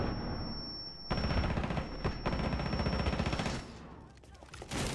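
Rainbow Six Siege gunfire in rapid, dense automatic bursts, loud and close, rattling for about three seconds before tapering off, with a player's voice faintly present.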